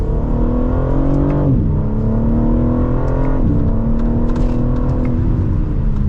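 A 2025 BMW M3 Competition sedan accelerates hard from second gear, its engine note rising steadily and loud from inside the cabin, with a brief dip at a gear shift before climbing again.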